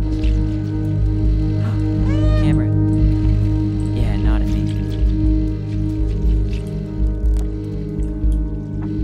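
A cat meows a couple of times in the video game Stray, with drawn-out rising and falling cries over a steady bed of game ambience.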